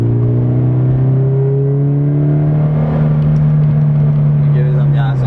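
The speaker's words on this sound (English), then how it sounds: "now I can just shift down to 3rd gear and" A manual car's engine revs as the driver downshifts from fifth to third gear at about 36, a loud, close rumble whose pitch climbs and then eases, with a voice heard faintly alongside.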